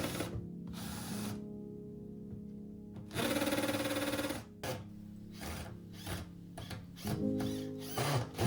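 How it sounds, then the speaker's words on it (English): A power drill with a large bit bores a bigger hole in wood, whirring in short bursts, stopping and starting several times, close by and fairly quiet, with no talking. "drilling in the wood a bigger hole with a big drill"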